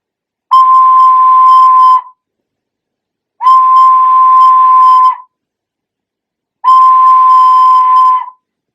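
Three soft, even notes blown gently on a Nuvo Toot plastic flute, each a steady pure tone lasting about a second and a half, separated by silent gaps.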